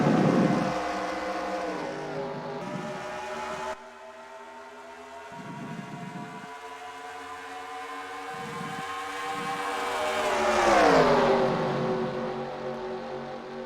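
Race cars on a superspeedway in the NASCAR Racing 2003 simulator, a sustained engine whine with harmonic layers that rises and sweeps in pitch as cars pass, loud and continuous with no talk.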